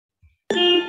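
After a faint low thump, one bright bell strike rings out loud and close, used as a sound effect in the Filmora video editor, its shimmering tone sustaining and slowly fading with no voices.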